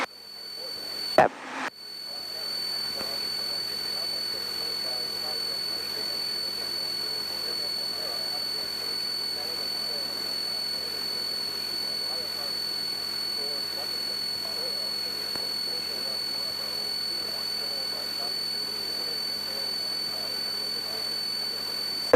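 A small airplane engine drones steadily and loudly during a climb just after takeoff, after a brief bump at the start, with a constant tonal whine over the engine roar.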